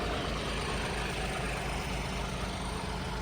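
A Swaraj 744 FE tractor diesel engine and a John Deere 5210 GearPro run at steady idle, a dense low throbbing rumble close by that holds even and unbroken throughout.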